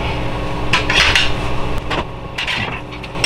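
Chicken wings being drained from a pan in a kitchen with a Breville Smart Oven Air: loud metallic clatter and scraping of pan and utensils over a sizzling hiss, close by, with several sharp knocks and no speech.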